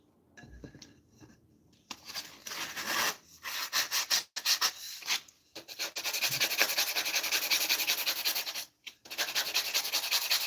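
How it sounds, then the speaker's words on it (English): Sanding by hand, close up. Short rasping strokes come in bursts, then settle into a long, steady rubbing stretch with a brief pause near the end. "So now just to sand them."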